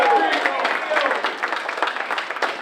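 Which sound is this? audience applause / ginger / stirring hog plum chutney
audience applause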